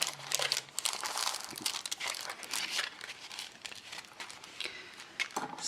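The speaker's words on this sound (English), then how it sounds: "you fold it, make the folds so that everything tucks away" Paper letter card for a journal being folded and creased so everything tucks into an envelope, a steady close rustle and crinkle of paper with soft crisp handling noises throughout.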